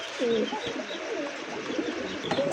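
A pair of black-laced satinette pigeons, a male and a female offered for sale, coo softly and repeatedly at close range in short rolling calls, with no talking over them.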